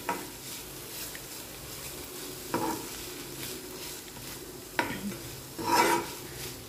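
Chopped coriander is stirred into cooked chicken liver in a pan, with a low continuous sizzle under a few distinct spatula scrapes spaced out across the stretch.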